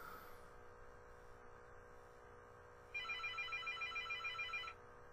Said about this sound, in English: Let my phone stop ringing,